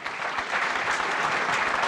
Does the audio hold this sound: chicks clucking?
no